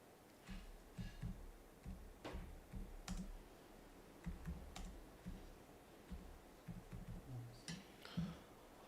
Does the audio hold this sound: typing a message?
yes